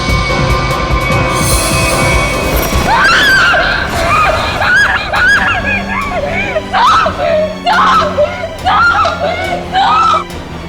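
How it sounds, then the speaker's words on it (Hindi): A woman screams loudly and repeatedly in sharp, piercing bursts, rising above background noise and muffled voices, with the cries coming in uneven clusters across the second half. "इतनी जोर से क्यों चिल्ला रही है?"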